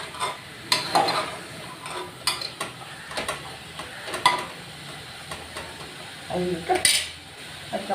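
Overnight-soaked chickpeas sautéing in a pan for a no-onion, no-garlic Punjabi chole masala: a low sizzle under repeated clinks and scrapes of a metal spoon against the pan, close up and without speech.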